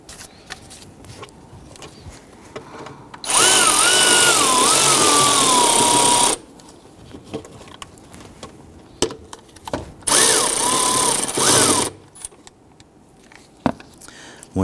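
A power tool drives a 10mm bolt through a bracket into the intake manifold of a 2011-2015 Kia Sorento during starter replacement, two loud whirring bursts of about three and two seconds with a pause between.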